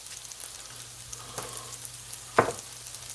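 Fried rice sizzling in butter in a pan, a soft steady crackle under a low hum, with one louder spatter near the end and no talking.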